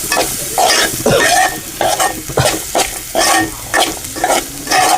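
Onion sautéing in a pan, sizzling loudly and close as a spoon stirs it in repeated bursts of scraping and frying, with short pauses between strokes and no voices.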